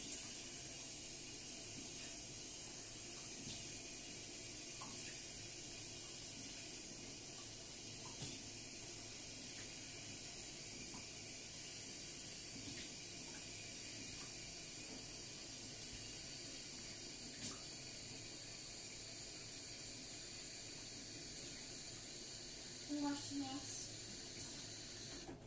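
Cold water runs from a tap into a sink during washing up, a steady faint hiss that continues throughout with a few small clinks and knocks near the end.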